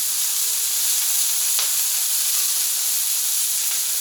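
Onions fry on a Camp Chef griddle for a USDA Prime ribeye cheesesteak, giving a steady, bright sizzle and hiss close by with no voices.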